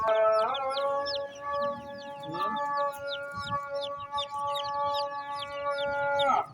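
Dyed chicks at a bird market on College Road, Rawalpindi, chirp densely and continuously, with many overlapping high peeps and a steady droning tone beneath them.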